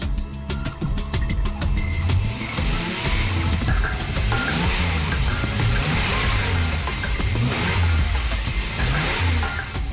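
Water-run acetylene car engine, modified to run on gas from water and carbide, running steadily and loudly with a rough, pulsing mid-pitched clatter throughout, no voices.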